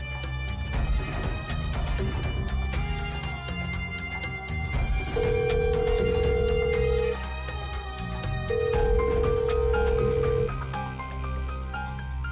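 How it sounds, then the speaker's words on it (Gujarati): A phone call rings in an indoor domestic scene of a Gujarati TV serial, with steady repeated electronic ring tones sounding over soft background music and no talking. "ફોનની રિંગ ક્યાંથી સંભળાશે અમને?"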